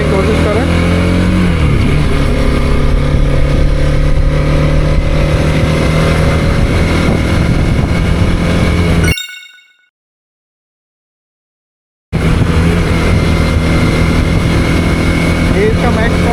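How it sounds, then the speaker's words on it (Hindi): A recently launched TVS Apache RTX 300 motorcycle runs while cornering, its engine a loud, steady close drone with wind rush, cut by about three seconds of complete silence before the drone resumes. "ये बाइक है TVS अपाचे का अपाचे की RTX 300 जो कि रिसेंटली लॉन्च्ड है।"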